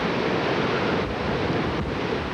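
Hurricane Georges floodwater and wind sweep through Government Street in downtown Mobile at night, a loud, steady roar of gusting wind and rushing water with no voices.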